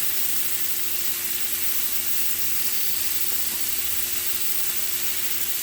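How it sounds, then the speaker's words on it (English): Shrimp fry in a skillet with a loud, continuous close sizzle and hiss that stays even from start to finish, with no talking. "I'm just going to cook these in a skillet"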